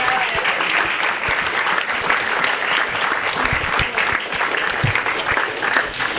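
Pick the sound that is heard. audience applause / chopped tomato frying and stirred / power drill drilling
audience applause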